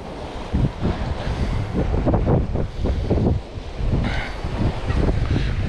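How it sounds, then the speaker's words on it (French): Strong gusting wind buffets the microphone with a rough, roaring rush while sea fishing for bass, water sloshing faintly beneath, continuous and close throughout. "Ouh, il y a du vent mine de rien"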